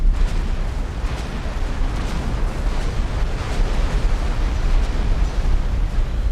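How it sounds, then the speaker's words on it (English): A space station explodes in the X4 video game with a Star Wars mod, a sustained loud rumbling blast that roars steadily for several seconds with crackling bursts throughout. "Explosion imminent."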